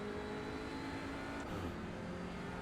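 A TCR touring race car accelerates hard out of a corner, its engine a loud, dense continuous roar with a rising tone, heard close from onboard and without any talk.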